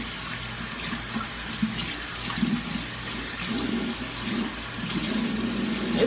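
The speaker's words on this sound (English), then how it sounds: "Do y'all wash y'all hands first before you wash your face?" Tap water runs steadily into a sink during handwashing, a continuous close splashing hiss that stays fairly even throughout with slight swells, no talking over it.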